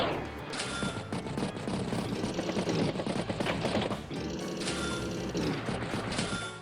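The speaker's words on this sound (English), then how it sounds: "Battlecopter does strike the Neo tank." Battle copter attacking a Neo tank in the Advance Wars video game, a dense, steady rattle of rapid gunfire and mechanical clatter with a booming low end, continuous and loud throughout.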